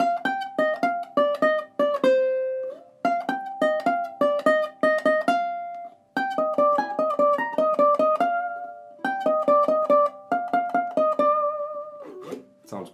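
A solo ukulele plucks the lead melody of a song, in four repeated phrases of quick, bright single notes, close and clear, with no voice.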